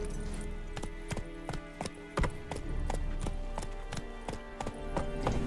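Roach the horse's hooves clip-clop in a steady, close walking rhythm across the ground in Witcher 3, a loud run of repeated strikes with a faint whinny mixed in.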